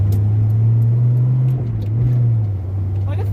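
A 1981 Ford Mustang fitted with a whale tail spoiler cruising on the road, heard from inside as a loud, steady low engine drone. The drone dips and swells slightly as it goes, with a voice talking over it.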